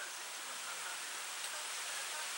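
Steady rain falls outside on a chilly morning, a soft, even broadband hiss that stays constant and fairly faint throughout with no voices.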